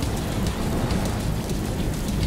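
Steady storm noise in an animated fairy series battle scene, a dense wash of rain-like rumble with low thunderous roll throughout, fairly loud and continuous with no clear separate crack.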